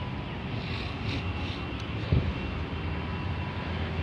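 A Royal Enfield Classic 500 motorcycle idles with an aftermarket exhaust, giving a steady low rumbling drone with one brief louder thump partway through.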